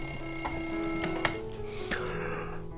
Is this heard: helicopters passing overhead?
no